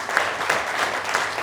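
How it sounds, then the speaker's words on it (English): An audience claps warmly after a book talk on the Gujarati community, a close, continuous patter of many hands filling the room. "a round of applause once again."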